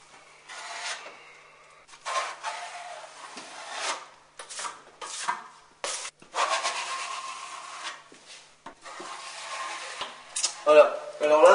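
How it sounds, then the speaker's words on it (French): A trowel smooths joint compound over flat drywall tape on plasterboard in repeated scraping strokes, separated by short pauses. "vient se pliquer tout en haut de la bande en faisant une légère courbe avec la truelle"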